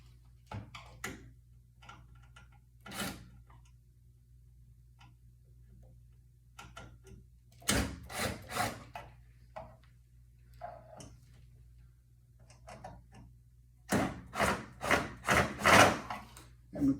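Bottom screws are being loosened on a Sole elliptical during drive belt work, making short runs of sharp, close clicking and ticking with long quiet gaps between them.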